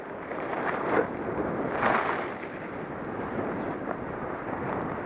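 Wind roars across the microphone while skiing through drifts in the Hemlock area, with broadband gusts swelling around the first two seconds before settling into a steady rush.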